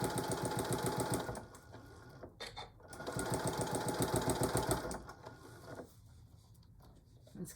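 A sewing machine stitches down a fabric potholder in steady rapid bursts, pausing briefly mid-run before resuming, then trailing off at the end; close and clear with no talking.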